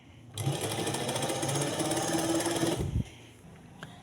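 A sewing machine runs fast and steady up close, stitching along the folded fabric edge over elastic at a trouser waistband, a dense rapid hum lasting about two and a half seconds before stopping with a clunk.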